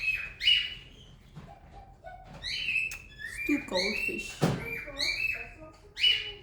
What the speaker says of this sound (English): My bird's going crazy.